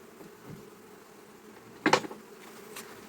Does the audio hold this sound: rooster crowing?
no